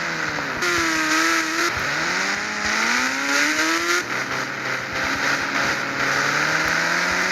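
A car in a racing video game accelerates through the gears, its synthetic engine tone rising in pitch, dropping at each shift and climbing again, loud and continuous.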